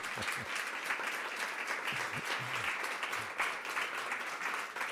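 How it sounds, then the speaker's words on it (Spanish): Audience applause at a music talk session with a songwriter; a soft, distant round of clapping from a modest crowd continues steadily, with a few low voices murmuring underneath. "un aplauso, ¿no?"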